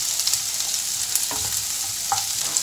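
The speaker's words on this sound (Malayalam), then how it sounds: "സബോളയാണ് എടുത്തിരിക്കുന്നത്. ഇത് ചെറുതാക്കി മുറിച്ച് ഇതിലിടാം. ഇതൊന്ന് വഴറ്റി കിട്ടണം." Finely chopped onion sautéing in a pan for egg curry, a steady close sizzle with occasional scraping stirs and soft clinks, no talking.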